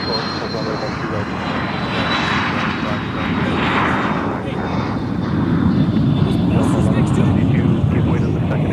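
American airliner jet engines roaring steadily at MSP airport while ready to taxi, a broad loud rumble with a thin high whine running through, under faint radio chatter.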